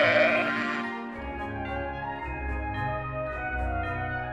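A sheep gives a loud, wavering bleat up close, then trails into a sustained, steady bleating cry.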